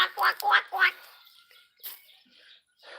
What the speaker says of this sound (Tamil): பாருங்க நம்ம வாத்து வா பேக் பேக் பேக்